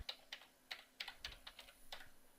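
Rapid, irregular keystrokes on a computer keyboard as MATLAB code is typed, about a dozen crisp clicks in quick bursts, close and clear with no talking.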